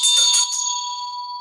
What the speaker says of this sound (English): I gotta ring the bell because angels love it when you ring a bell